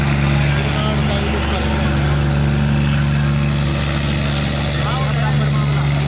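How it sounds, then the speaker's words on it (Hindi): Sonalika tractor engines droning loudly and steadily during a tochan tractor pulling contest, a constant low rumble with a commentator talking over it throughout. "परला ट्रैक्टर लेकर चल गया इसे"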